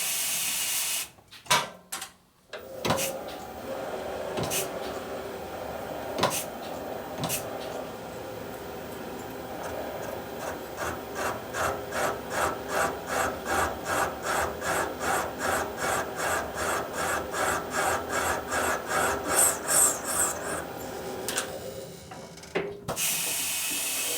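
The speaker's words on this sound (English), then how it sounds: "Just a clearance cut. Cut away that nasty aluminum that's in the way." A tool grinds a clearance cut in the aluminum of a 1990s Harley-Davidson Sportster 1200 XL cylinder during porting work. Close, steady rasping with a rapid, pulsing rhythm of short repeated strokes through the middle stretch.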